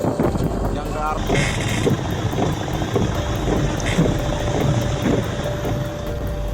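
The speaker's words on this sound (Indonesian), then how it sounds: "Anginnya kencang sekali di Kaligarang, Pantuban." Strong storm wind sweeps through Kaligarang in Semarang. It makes a continuous roaring gust that buffets the microphone, loud and close, while a reporter's voice talks over it.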